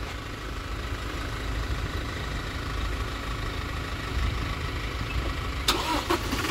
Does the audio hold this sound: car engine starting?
yes